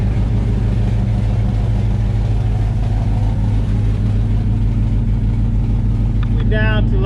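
LS-swapped car engine idling steadily near 780 RPM, a loud, continuous low rumble with an even pulsing throb throughout, with a brief higher tonal sound near the end.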